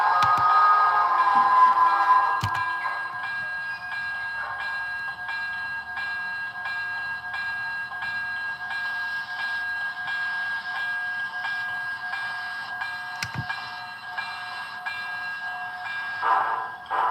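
A model holiday train backs up into its consist with a steady electric hum and buzzing tone that carries evenly for many seconds, broken by a couple of faint clicks.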